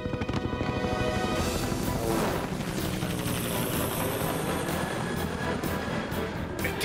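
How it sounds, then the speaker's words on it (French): Helicopters in an animated show pass overhead with a dense, continuous rotor chop and engine roar, loud and close throughout, with no talk. "On dirait des hélicoptères."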